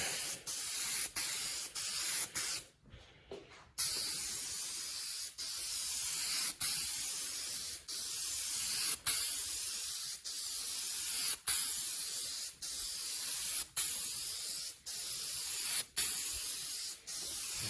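Spray can laying down metal flake car paint in a light first coat, a steady loud hiss in repeated bursts with brief gaps between passes and one longer pause early on.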